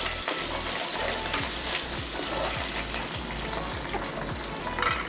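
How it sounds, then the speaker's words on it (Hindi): Fenugreek seeds, curry leaves and green chilies crackle in hot oil for a kadhi tempering: a loud, steady, dense sizzle with bursts of spitting that carries on throughout, with no one talking. "मीठा नीम और मिर्ची इस तरह से डालेंगे बघार में।"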